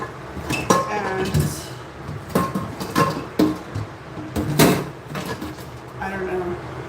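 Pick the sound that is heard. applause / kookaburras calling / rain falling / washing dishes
washing dishes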